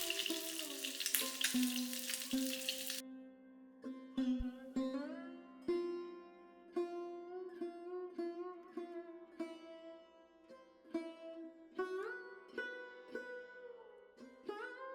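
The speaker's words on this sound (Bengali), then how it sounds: "মাছের দুটো সাইড আমার খুব ভালো করে ভাজা হয়ে গিয়েছে" Pabda fish sizzles in hot oil in a pan for a few seconds, a steady bright hiss that then gives way to music.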